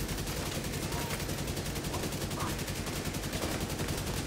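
Rapid, dense gunfire fills a video game boss fight, the boss spraying flame bullets in a steady continuous barrage that stays loud and close throughout with no pauses.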